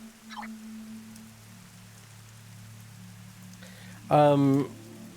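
Steady rain falls in the Star Wars Outlaws game world, a soft continuous patter beneath a low hum, with a brief burst of voice and a tonal electronic chirp near the end.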